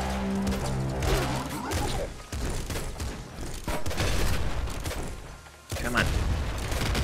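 Explosions and rapid gunfire from the top-down shooter Nuclear Throne in online co-op play, a dense, loud barrage of bursts and booms with a brief drop near the end before firing resumes.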